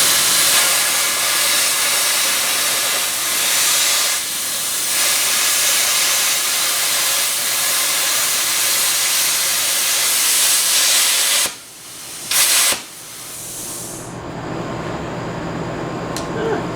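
A bargain Vevor plasma cutter slices through a half-inch steel leaf spring, giving a loud steady hiss that runs for about eleven seconds, breaks off abruptly with a short burst, then fades to quieter air hiss.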